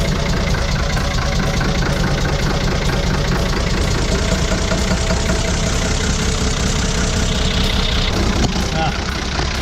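An old 1989 Iveco 12-14 truck's diesel engine runs loud and continuous at idle up close, with a rough knocking rumble throughout and people talking over it.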